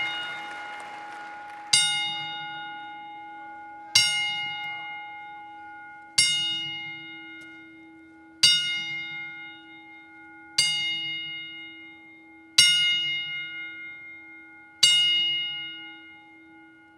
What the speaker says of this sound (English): Lance Russell, and Brian Christopher by ringing the bell 10 times in honor of their memory.